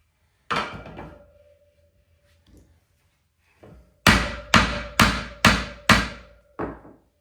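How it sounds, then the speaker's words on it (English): A hefty hammer strikes a bent off-road motorcycle wheel, a KTM 890 Adventure R, set on oak blocks: one ringing blow, a pause, then a rapid run of five loud metallic hits and a softer last one, each ringing out briefly. "Now I'm using a pretty hefty hammer."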